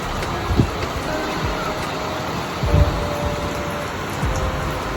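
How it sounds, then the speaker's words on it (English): Rain falls outdoors during a thunderstorm as a steady dense hiss with occasional low rumbles and bumps, moderately loud and continuous throughout. "Now I'm gonna give y'all a shot of the rain."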